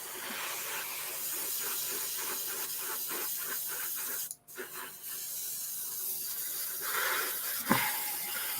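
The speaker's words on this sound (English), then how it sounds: "I really don't like my compressor." A steady hiss of air from a struggling compressor that keeps cutting out runs throughout, with a brief dropout midway and a short thump near the end, no talking.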